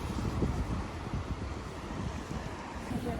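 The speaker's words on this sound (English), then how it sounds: "It's windy and chilly." Steady wind gusts at the seaside in Howth, a constant broadband rush with low buffeting against the microphone and no voices.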